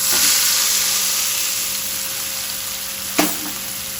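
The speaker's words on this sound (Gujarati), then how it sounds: "હવે આપણે આની અંદર વઘાર ઉમેરી દઈશું." Hot spice tempering (vaghar) poured into handvo batter gives a loud, steady hissing sizzle that slowly fades, with a sharp crackle burst near the end, close by with no voices.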